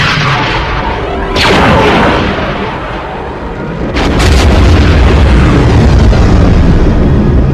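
A huge explosion destroying the moon in a Doctor Who audio drama, a loud continuous rumbling roar with sharp blasts near the start and a heavier surge midway that keeps booming to the end.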